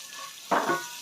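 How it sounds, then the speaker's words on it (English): After a quiet start, food for a fish stew hits a hot pan with a sudden loud sizzle that keeps crackling up close. "So onto a hot sizzling pan."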